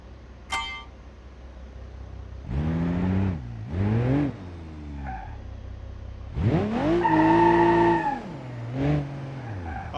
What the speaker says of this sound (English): all these cars sound so good